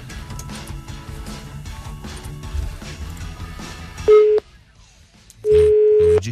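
A telephone dial tone sounds while a radio morning show dials a listener, a steady tone heard in two bursts, first briefly then again near the end, after a stretch of broadcast audio.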